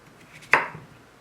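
A single crisp knife chop through fresh fruit or vegetables such as celery on a cutting board, one sharp close cut with a short tail, otherwise quiet.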